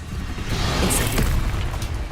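Incendio fire spell cast in the Hogwarts Legacy video game, a sustained loud whooshing, booming burst of flame lasting about two seconds, with no talk over it.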